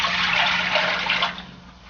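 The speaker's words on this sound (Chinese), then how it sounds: "锅中加入适量清水，" Clear water poured into a cooking pot, a loud steady splashing rush that thins out toward the end as the pour slows.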